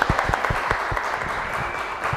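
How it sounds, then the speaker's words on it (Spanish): An audience at an anniversary celebration for a television program breaks into sustained applause, a dense, even wash of many hands clapping that holds steady through the whole moment. "¡Un aplauso!"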